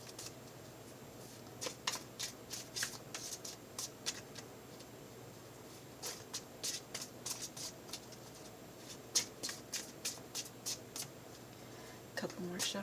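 Tarot deck being shuffled by hand, quiet bursts of crisp riffling and card flicks in irregular clusters, with pauses between, close and soft, with a person speaking quietly between shuffles.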